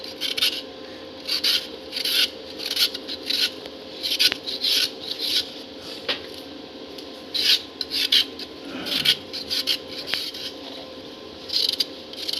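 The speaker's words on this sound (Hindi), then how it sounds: "इस तरह से खुरचेंगे इसको।" Lotus stem (bhein) having its peel scraped off with a knife: a steady series of short rasping scrapes, close and fairly loud, in an irregular rhythm, with no talking.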